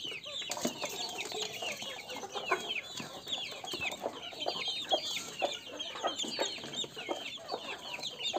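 A flock of young broiler and kampung crossbreed chickens clucks and cheeps continuously nearby, overlapping chirps and short clucks in a busy farm coop with no talking.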